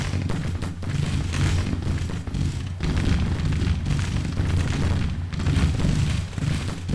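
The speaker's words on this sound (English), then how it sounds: "They're firing at an HQ unit, really." Continuous heavy booming battle fire from a Civil War strategy game, Grand Tactician, aimed at an HQ unit in Missouri, rolling dense and loud with repeated blasts and no pauses throughout.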